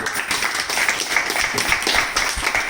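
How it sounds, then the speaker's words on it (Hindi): Enthusiastic audience applause at a live business meeting in India, many hands clapping vigorously and continuously, with sharp individual claps standing out from the dense wash throughout. "इनके लिए जोरदार ताली।"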